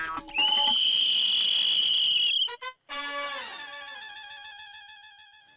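A police whistle blown loudly and shrilly, a long sustained blast, then two short chirps and another long warbling blast, close and alone without talk.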